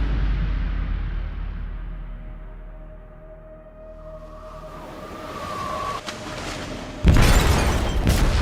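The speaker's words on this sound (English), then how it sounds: "They detonated an explosive in the hold. The ship is sinking" A heavy explosive blast detonates in a ship's hold in the game Detroit: Become Human, a deep low rumble building under a ringing tone before a loud, sudden burst of noise erupts near the end.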